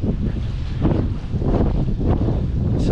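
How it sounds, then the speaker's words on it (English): Strong wind buffets the microphone on a harbour arm at Newhaven while sea fishing, a loud continuous roar with gusty surges throughout and no speech. "Windy today."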